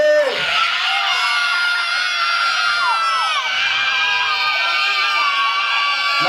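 A crowd of children and adults at a birthday party screams and cheers in one long, loud, sustained roar, with high shrill voices layered throughout.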